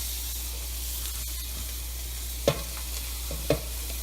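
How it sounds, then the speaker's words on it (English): Diced carrots and onions sauté in a little olive oil in a pot for Manhattan clam chowder, giving a soft steady sizzle with two sharp clinks of a utensil stirring against the pan. "I'm going to saute that a little bit for a while, along with diced potatoes."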